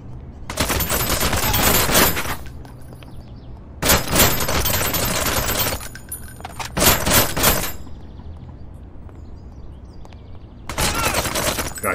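Bursts of gunfire in a zombie shooter video game, four separate volleys of rapid shots, each lasting one to two seconds and separated by short quieter gaps.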